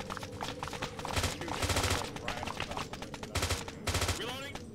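Gunfire on a military firing line, loud close bursts of rapid shots in several separate volleys, with shouted voices between them.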